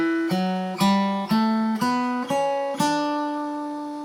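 Major scale starting at D on guitar, six plucked notes climbing step by step at an even pace, each ringing clearly, with the last note left to sustain, close and alone.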